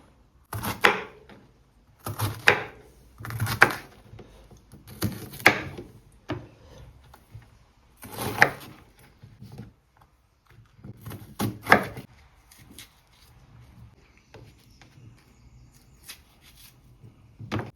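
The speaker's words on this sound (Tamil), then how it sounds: "இப்போ நாங்கள் பாவக்காயை கட் பண்ணுவோம்." White bitter gourd cut into small pieces with a knife, heard as clusters of quick, crisp chopping strikes on a board, separated by short pauses, close and moderately loud.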